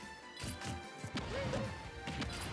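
Several sharp smash-like hits pop in quick succession as grenades go off in a Super Smash Bros match between Banjo and another fighter, loud and close over a busy game soundtrack.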